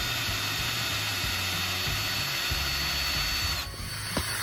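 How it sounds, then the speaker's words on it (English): A power drill runs continuously while boring holes through 2x4 wooden frame boards, a loud steady whine that stops near the end, followed by faint handling knocks. "so now we're drilling smaller holes all the way through"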